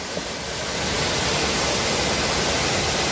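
Water of Machkanda waterfall on Ajodhya Hill in Purulia rushes as a steady, dense roar, loud and continuous, with no voices.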